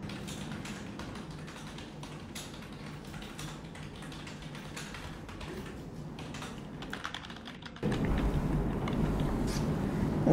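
Fingers type fast on a computer keyboard, a rapid, continuous patter of close key clicks that grows louder and denser toward the end.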